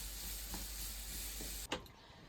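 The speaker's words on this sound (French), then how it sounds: "pendant que les oignons sont en train de cuire à la maison" Onions cooking in a pan give a quiet, steady low sizzle, faint and continuous, broken near the end by a short sharp knock.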